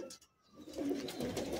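Old-bloodline Madrasi pigeons give a soft, low, throaty coo that swells after a short pause and carries on steadily at close range.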